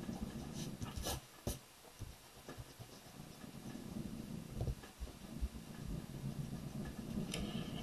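A pencil eraser rubs back and forth across paper up close, faint scratchy strokes in an uneven rhythm with occasional light taps.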